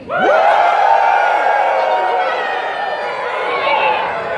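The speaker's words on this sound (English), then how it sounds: "So I want everybody to cheer without clapping" A convention audience at Bronycon 2019 cheers, whoops and shouts with voices only and no clapping: a loud, sustained wall of crowd vocalizations from start to finish.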